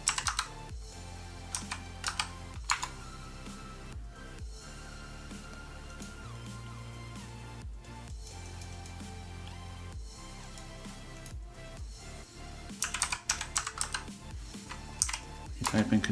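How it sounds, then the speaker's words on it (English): Typing on a computer keyboard in Windows 10, with quick clusters of key clicks and pauses between bursts, heard close over a faint background hum with no talking. "we can go to the File Explorer here and type in control."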